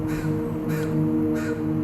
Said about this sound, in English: A crow funeral is an event where you have a bird who discovers a dead crow, and it will vocalize and recruit other birds to the scene.